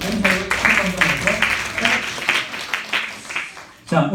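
A church high school youth service congregation claps, with rhythmic bursts of applause running through the clip while people speak over it, then a brief lull before the noise resumes.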